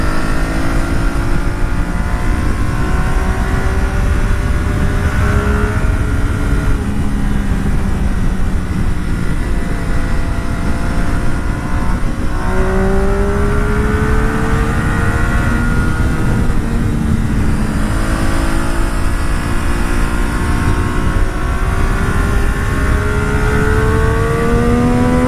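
A motorcycle accelerating hard on an open road to overtake a minivan: a loud, continuous engine roar with rising pitch sweeps as it revs up through the gears, under steady wind rush.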